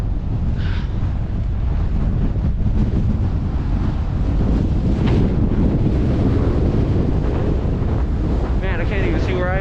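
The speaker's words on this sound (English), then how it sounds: "Wow, look at that wind." Strong wind gusts buffet the microphone on a ski slope at Snowbasin Resort while snowboarding, a loud continuous roar and rumble throughout, with brief voices under it.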